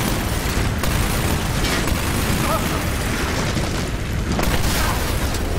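Explosions and gunfire in the shooter game Medal of Honor: Warfighter, a dense, loud wash of booming blasts and rumble that continues without pause.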